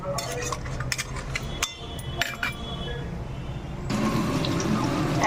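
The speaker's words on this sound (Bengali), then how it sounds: "এবার এর মধ্যে দিয়ে দেবো হালকা উষ্ণ গরম জল, অল্পই দেবো।" Lukewarm water pours into a pan of Bengali-style crab curry, a continuous close splashing stream with a few clinks of utensils against the pan.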